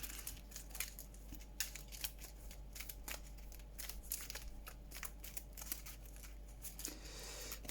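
Cards from an Arkham Horror card game deck being reshuffled on a table, a steady run of quick papery riffles and flicks with sharp snaps, close and fairly quiet over a low hum.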